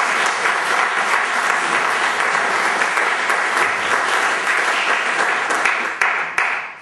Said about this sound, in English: Round of applause for John as well